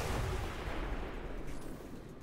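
A car explodes in XCOM 2: a dense, rumbling explosion with a loud low-end boom that slowly decays into a crackling, roaring tail.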